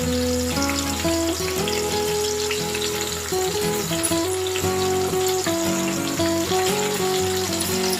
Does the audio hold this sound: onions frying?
yes